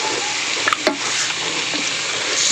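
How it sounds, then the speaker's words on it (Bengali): Potatoes fry in hot oil with chilli and turmeric powder, giving a steady bright sizzle close by, with a couple of quick stirring scrapes early on and no voices. "আলুগুলো একটু ভাজা ভাজা করে নিয়ে দেবো বাঁধাকপিটা।"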